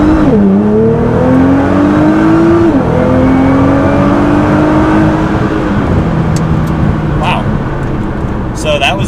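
A tuned Nissan GT-R running 8 PSI boost launches hard from a standstill, its loud engine note climbing steadily through the gears with a brief dip at each shift, staying close and dominant throughout.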